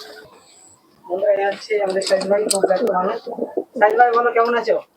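Domestic pigeons, including teddy pigeons, coo in repeated low throaty phrases, fairly close and steady, with a short pause midway before another burst.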